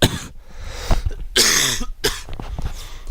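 Several harsh, loud coughs come close together, with short pauses between the bursts.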